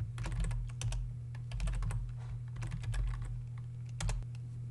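Quick, light clicks from a computer keyboard as someone types a command, an irregular patter of keystrokes over a steady low hum.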